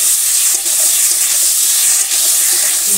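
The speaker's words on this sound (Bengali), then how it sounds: "এবার জিরে আদা লঙ্কা বাটাটা দিয়ে দিলাম। দিয়ে এখন এটা নাড়বো।" Cumin, ginger and chili paste frying in a pan in a village kitchen, a steady loud hiss of sizzling with occasional stirring scrapes, close up, without talk.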